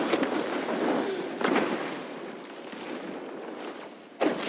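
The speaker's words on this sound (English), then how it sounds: "I know that explosion." Explosion in the video game Destiny, with several booming blasts and crackling debris over a continuous roar of gunfire and effects, loud and dense, with no talking.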